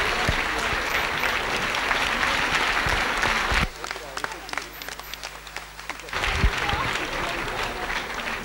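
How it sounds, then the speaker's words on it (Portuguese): Audience applause at a choir's 75th-anniversary celebration concert, after a children's group performs: dense clapping that dips partway through, then swells again, with a voice speaking over it. "uma grande salva de palmas para as suas criancinhas"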